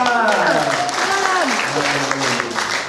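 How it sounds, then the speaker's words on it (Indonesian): Guests at a wedding reception applaud continuously, a loud sustained clapping crowd with voices and tonal sounds rising over it throughout. "Iya, mari berikan tepuk tangan."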